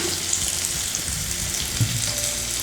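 Onion with bitter gourd and mango sautéing in oil in a pan for sambar, a steady bright sizzle with occasional stirring scrapes, close and alone.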